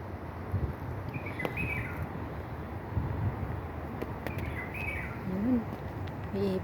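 Birds chirp and call intermittently over a steady outdoor background hum, with short high tweets scattered throughout and a lower cooing call near the end.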